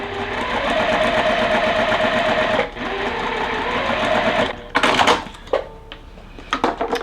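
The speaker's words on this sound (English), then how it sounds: "I just use the seam tape that's on my sewing machine" A sewing machine runs steadily with a fast, even mechanical whir, pauses briefly, then stops, followed by a few clunks and clicks of handling.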